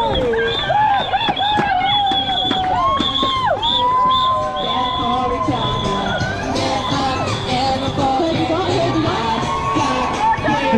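Loud, dense roadside crowd at the London Marathon cheering, whooping and shouting continuously, with a mix of adult and children's voices and scattered whistles over a steady babble.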